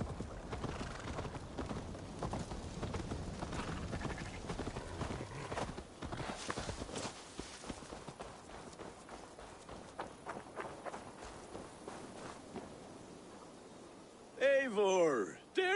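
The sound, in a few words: horse hooves, from a video game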